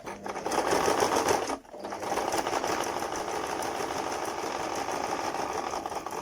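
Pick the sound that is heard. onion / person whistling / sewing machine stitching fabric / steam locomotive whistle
sewing machine stitching fabric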